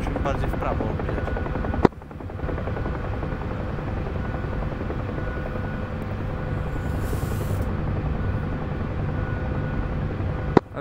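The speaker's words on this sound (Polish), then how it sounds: "Ja muszę jeszcze bardziej skręcić śmigłowcem" A helicopter flies in the DCS World combat flight simulator during bad-weather CSAR training, its rotor and engine droning steadily and loudly, broken by a couple of sharp clicks, while a voice talks over it.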